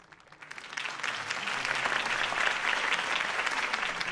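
A crowd in a Batman video game breaks into steady applause, swelling quickly and holding as a dense wash of clapping for several seconds.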